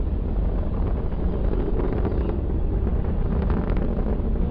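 Atlas V rocket carrying the Mars Science Laboratory during ascent, a distant broadband roar with a rough crackling texture and wind buffeting, steady and muffled.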